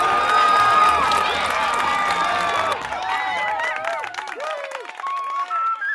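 Studio audience on a Romanian countryside TV competition show applauding and cheering, a dense burst of clapping and voices that thins out partway through, with scattered shouts and a few sustained tones over the fading crowd.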